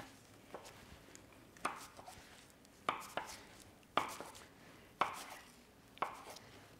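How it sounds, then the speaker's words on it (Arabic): A knife cuts cinnamon roll cookie dough into pieces on a board, about half a dozen soft, evenly spaced thuds with a quiet pause between each cut. "بالسكين نقطعها لحوالي 10 قطع أو 12 قطعة"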